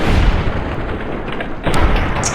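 Gunfire from a weapon in Fallout New Vegas: heavy booming shots with thumping low-end bursts, one near the start and another loud blast partway through, ringing out over ambient game noise.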